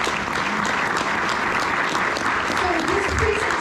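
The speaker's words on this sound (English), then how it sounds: "Let's give Jennings another round of applause." Audience applause at a public meeting with elected officials, steady and loud throughout as a continuous wash of clapping from a large crowd.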